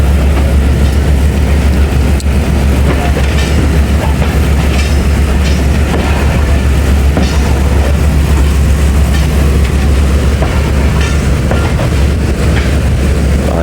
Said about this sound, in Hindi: हमारी ट्रेन में मूव हो रही है सिहाला से